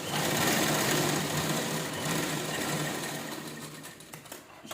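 A sewing machine stitches around a towel bag made from an old shirt, running in a steady fast whirring clatter close up for nearly the whole stretch, easing off briefly at the end, with no talk.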